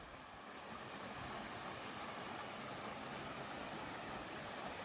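Double Drive waterfall near Cherrapunji in Meghalaya, running low on water, heard as a constant broad roar of falling water, steady and unbroken, with no speech.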